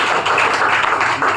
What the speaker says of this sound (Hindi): एक बार चाहूंगा ताली सर के लिए